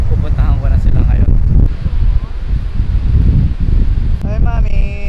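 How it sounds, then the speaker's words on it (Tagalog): Strong wind on a Gold Coast beach buffets the microphone in loud, continuous rumbling gusts, with a voice talking faintly underneath. "Sanay na yung mga locals dito sa ganitong hangin. Mahangin talaga."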